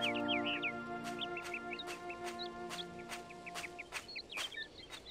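Birds chirp and tweet repeatedly in a scene from the adventure game Syberia, quick bright calls scattered throughout over soft ambient music, with rhythmic percussive taps.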